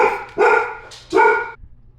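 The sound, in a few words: dog barking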